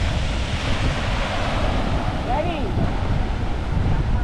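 Strong wind buffeting the microphone on a Chennai beach, blending with a constant roar of surf, loud and unbroken throughout.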